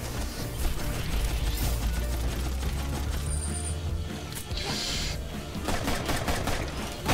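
Rapid gunfire from the video game Full Metal Furies, dense repeated automatic bursts with crashing impacts, loud and continuous throughout with no talk over it.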